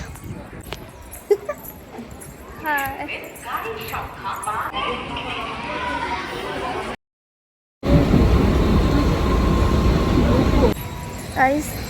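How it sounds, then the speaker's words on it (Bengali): Busy railway station on the way to the Krishnanagar fair, with steady crowd noise and rumbling movement throughout, people talking nearby, a brief dropout midway, then a louder, denser wash of station bustle. "এই যে এখন চলে এসেছি স্টেশনে"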